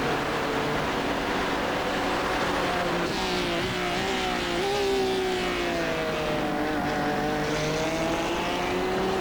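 A GT3 race car's engine pulls hard out of a corner at the Nurburgring in the iRacing sim, its rising and falling tonal whine sweeping steadily through gear changes with tyre and wind noise close and continuous.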